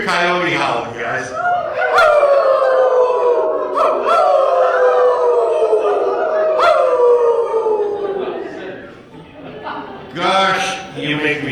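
A crowd of audience members imitates coyote howls together, several long rising-and-falling voiced howls with sharp whoops, mixed with chuckles and laughter, loud and close.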